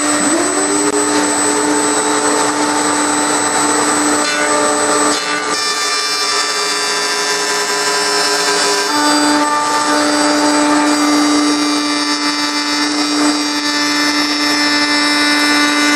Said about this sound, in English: I'm just going to turn on the router, put the piece on top, and slide it all the way around the table.